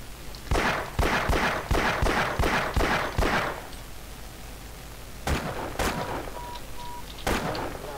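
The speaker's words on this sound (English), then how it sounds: "Oh, you're shooting me too?" Repeated gunfire from enemies shooting at the player in Half-Life, a rapid burst of about eight sharp cracks followed by a pause, then scattered single shots, loud and close.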